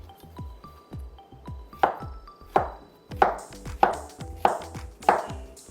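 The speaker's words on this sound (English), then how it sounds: "you're just going to cut your bananas whatever size you prefer" A knife chops bananas into chunks on a cutting board, about eight crisp, evenly spaced taps that grow louder and brighter as the cutting goes on, heard alone and close.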